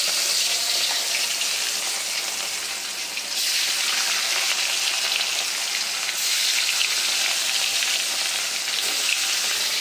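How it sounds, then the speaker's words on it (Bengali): Fish frying in a pan of hot oil, a continuous crackling sizzle at a steady level throughout, heard alone without talk. "তো এখন এইটা ভেজে নিই, সুন্দর করে ভাজতে হবে বুঝলে"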